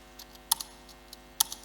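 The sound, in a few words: typing on a computer keyboard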